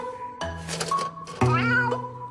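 A pet cat named Grippy, about 11.8 kg and weighed at dinnertime, gives two drawn-out, wavering meows close to the listener with no talk over them.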